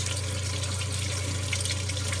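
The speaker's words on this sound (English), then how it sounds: "See the water coming down in there?" Water trickles steadily down through a hydroponic tower garden packed with rock wool, a constant close splashing wash over a low pump hum, with no voices.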